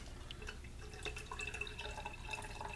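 Campfire bushcraft coffee trickles and drips into a vessel outdoors, a faint uneven splashing pour with scattered droplet ticks and no talk.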